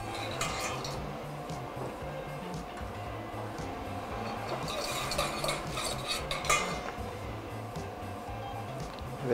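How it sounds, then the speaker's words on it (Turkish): A wire whisk stirs a mixture in a bowl in a restaurant kitchen, giving rapid rhythmic metallic scraping and clinking, fairly close, over a faint background hum. "Çırpma teli yardımıyla karıştırıyoruz."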